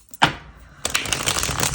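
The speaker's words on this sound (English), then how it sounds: "I'm going to shuffle one more time" Tarot cards being shuffled up close: one sharp riffle snap, a short pause, then a dense continuous rustling flutter of cards.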